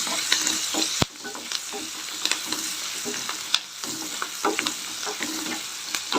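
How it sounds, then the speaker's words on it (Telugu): Turmeric being stirred into a gravy frying in a pan, a steady close sizzle broken by scraping spoon strokes and occasional sharp knocks against the pan. "ఇప్పుడు ఇందులోకి పసుపు వేసుకు పసుపు వేసుకున్నాం మంచిగా బ్లెండ్ చేసుకున్నాం"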